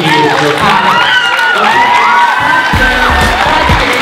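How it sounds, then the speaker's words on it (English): A large audience cheers, whoops and shouts over sustained applause at a youth social innovation event, loud and continuous throughout with no pauses. "That's a round of applause again for Richard and me."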